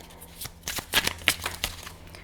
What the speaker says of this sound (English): I'm going to shuffle them back in